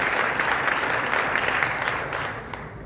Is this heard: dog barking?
no